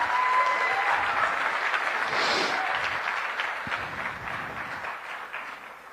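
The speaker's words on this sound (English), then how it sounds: "let's give a big round of applause to Shop Up." Sustained applause from a conference audience after a startup announcement, a dense, steady clapping wash that stays loud throughout and tapers slightly toward the end.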